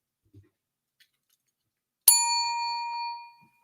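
A single bright bell ding rings out sharply and alone, its metallic tone sustaining and fading over about a second in an otherwise quiet room.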